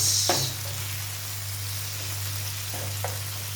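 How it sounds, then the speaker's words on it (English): Tomatoes, garlic and onion cooking down in a pan, a soft steady sizzle over a low constant hum with a couple of faint stirring scrapes; no voices. "Let the tomato cook down."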